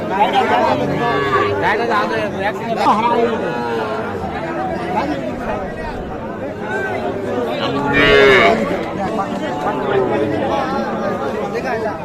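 Calves moo repeatedly amid a busy crowd of chattering voices, with one louder bellow standing out near the middle, at the Ambari haat cattle market.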